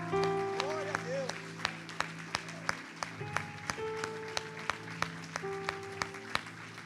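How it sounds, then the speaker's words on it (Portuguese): A church congregation claps during a worship service, regular rhythmic claps ringing out over sustained organ or keyboard tones and a voice, moderately loud and even in tempo. "vamos aplaudir o Senhor Jesus."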